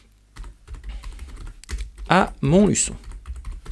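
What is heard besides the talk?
typing an address on a computer keyboard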